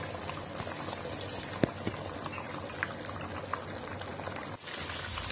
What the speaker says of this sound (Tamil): இப்போ இது நல்லா கொதிச்சிருச்சு.